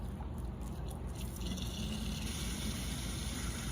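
Well water pours into a bottle being filled for pear cider, a faint, steady trickling and gurgling that stays at a constant low level throughout.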